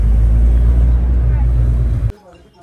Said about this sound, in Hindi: क्या ट्रैफिक है यार